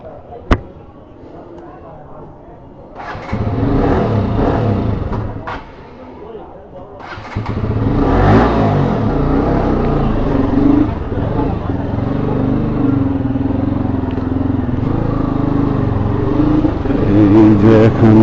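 A motorcycle at Abdullah Bazar coughs into life with a short start, idles, then cuts out before restarting and running steadily with a deepening throb as it sets off, while a voice is faintly heard over it.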